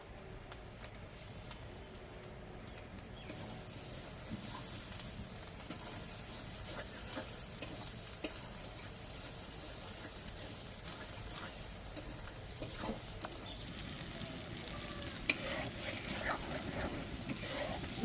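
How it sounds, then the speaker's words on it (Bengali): Spice paste with ground cashew paste fries for chicken curry with a steady, close sizzle. Spoon stirs scrape through it in an irregular rhythm and continue for the whole stretch. "দেখুন আমাদের মশলা ভাজা হয়ে গেছে।"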